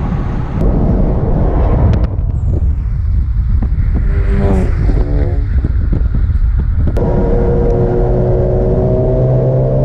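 An old Porsche revs hard through its gears, loud and close, with engine tone climbing and dropping at each shift under heavy wind rush from the open car.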